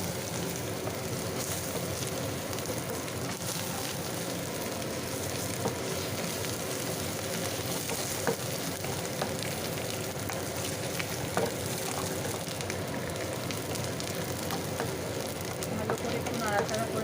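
Ginger paste fries in a pan, giving a steady, soft crackling sizzle that runs unbroken throughout with faint stirring, and a voice is barely audible underneath.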